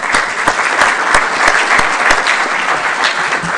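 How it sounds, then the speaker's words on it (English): A crowd at a fisheries board meeting claps steadily, a dense, even round of applause that holds for a few seconds without pausing, with no voices over it. "a round of applause for Bob Ballou."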